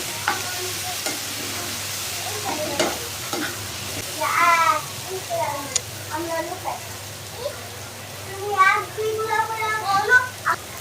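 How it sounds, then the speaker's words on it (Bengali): A curry of dried Bombay duck fish, eggplant and potato with coriander leaves, stirred in a hot pan: repeated scraping strokes over a soft, constant sizzle, with faint voices in the background. "আমি এত ধনে পাতা দিয়ে দিচ্ছি, দিয়ে আমি ভালো করে লাড়াচাড়া দিয়ে নিচ্ছি।"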